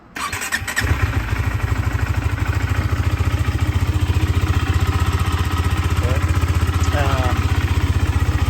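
A 2022 KTM RC 390 motorcycle cranks and fires up, then settles into a loud, close, steady single-cylinder idle with an even rapid pulse throughout.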